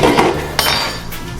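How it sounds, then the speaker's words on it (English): A utensil scraping and clinking inside a pot while spaghetti sauce is stirred, a few close metallic knocks and scrapes over a short, busy stretch. "stir it all in there"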